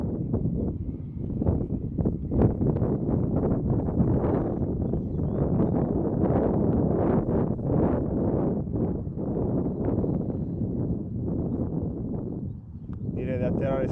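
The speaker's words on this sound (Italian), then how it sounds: "vi rendete conto cosa sta facendo il vento oggi?" Strong wind buffets a model airplane flying field in a steady, loud roar, with gusty rumble throughout and people talking over it.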